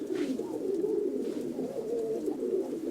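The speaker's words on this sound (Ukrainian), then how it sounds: "Донеччина, голуби Донеччини." Several pigeons from the Donetsk region coo continuously at close range, a low, throaty, warbling chorus with no voices.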